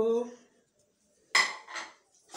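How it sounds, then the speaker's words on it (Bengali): Dishes and cutlery clink as rice is served onto a plate at a home meal, a few short separate clatters after a brief stretch of voice, close and fairly quiet. "এই যে ভাত বাড়ছি"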